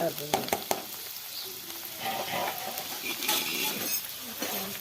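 Onions sautéing in butter for a stuffed brinjal curry give a steady close sizzle, broken by a few sharp utensil clinks and stirring scrapes.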